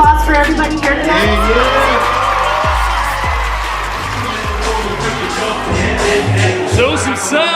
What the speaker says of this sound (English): Can I get a round of applause for everybody here tonight?